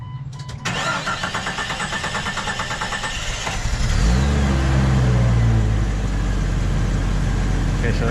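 Engine of a 1997–2001 Jeep Cherokee XJ, just after a fuel sending unit repair, cranks with a rapid starter whir and catches about four seconds in, settling into a loud, steady idle close by.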